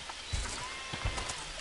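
Sheep in the game Overlord give a couple of short, faint bleats against quiet ambient background, with soft thumps between them.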